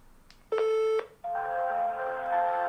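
A phone call being placed to a premium French service number: a short tone, a brief pause, then a sustained ringing or connection tone, clear and electronic, with no talking.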